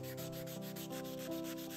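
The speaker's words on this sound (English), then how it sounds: "Oh, sanding. Easily the most tedious part of this entire process." Hand sanding a statuario marble sculpture: a steady, continuous rubbing and scraping texture heard up close, even in level, with no talking.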